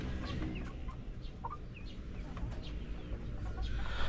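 Chickens cluck in a backyard coop, several birds making short, scattered calls over a steady background of low rustling and ambient noise.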